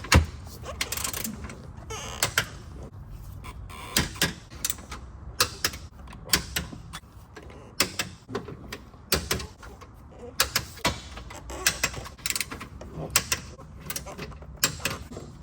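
A torque wrench tightens the 12mm oil pan bolts on a Toyota GR86 fitted with a GReddy oil pan baffle. Sharp mechanical clicks and ratchet ticks repeat at irregular intervals, close and fairly quiet, with no talking.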